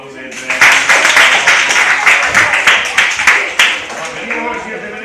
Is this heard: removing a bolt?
no